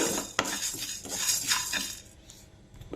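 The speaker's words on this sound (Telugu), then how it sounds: "హాఫ్ టేబుల్ స్పూన్ నువ్వులు వేసుకొని ఇవి డ్రై రోస్ట్ చేసుకోవాలండి." Sesame seeds, half a tablespoon, dry roasting in a pan, with a utensil scraping and clinking against the metal in quick irregular strokes, fairly close and clear, easing off toward the end.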